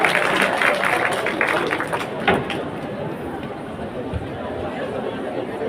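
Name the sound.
audience applause for county majority leader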